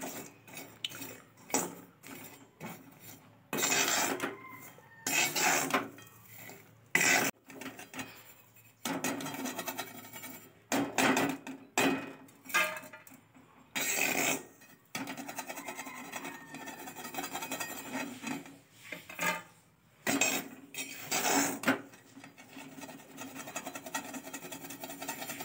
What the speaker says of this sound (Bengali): বালি খোলায় ভাজা একটাই সুবিধে, যে মশলা পুড়বে না, খুব সুন্দরভাবে ভাজা হবে।